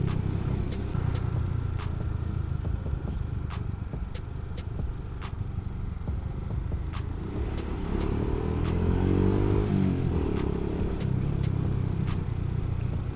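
Motorcycle fitted with a triple box pannier running while riding, a steady low engine drone with road rumble and wind, with the pitch shifting gently as it moves.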